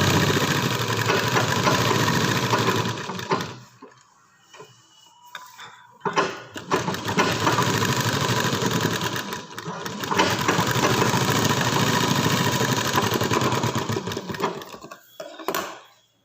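A sewing machine stitching the lining and pressure strip of a garment, long runs of fast, even mechanical whirring close by, broken by short pauses and a few clicks before it starts up again.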